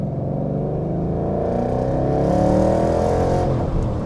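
A Ford Mustang GT engine with a new H-pipe exhaust rumbles steadily nearby with a deep, throaty exhaust note that swells slightly as it revs.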